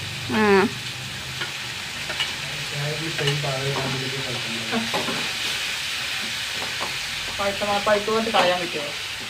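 Onion and green chillies frying in a pan, a continuous hissing sizzle with stirring clatter, heard close while voices talk intermittently over it.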